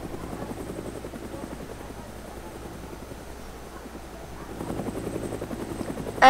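Video game helicopter with a rapid, rhythmic rotor beat, fairly quiet at first and growing louder toward the end, closing with a sudden loud burst.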